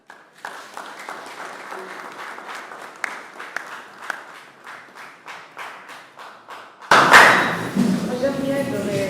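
Audience applause at a Kimbangu church gathering, steady rhythmic clapping from a crowd that swells into a louder, denser burst near the end, with voices over it.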